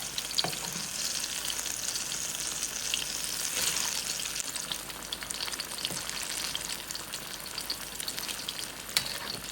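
Cauliflower fritters (gobi pakora) fry in oil over medium-low heat, giving a dense, steady crackling sizzle close by, sprinkled with small pops throughout.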